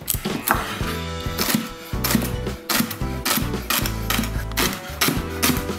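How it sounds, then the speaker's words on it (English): A knife chops through celery stalks on a cutting board, with a steady run of sharp, close knocks through the whole clip, heard under soft background music. "So if you've got a thick piece like this, you're just going to cut it in half."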